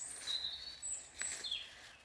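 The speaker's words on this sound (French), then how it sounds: "On entend le bruit des oiseaux." Small birds chirp faintly in a small private forest, a few thin high calls scattered over quiet outdoor ambience with no talking.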